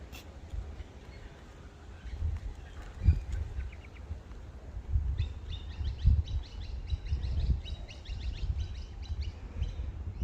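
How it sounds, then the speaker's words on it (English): Birds chirp and twitter outdoors on a sunny day in quick bursts of high calls, growing busier toward the end, over low thumps and rustling handling noise nearby. "Sunny day, the birds are out."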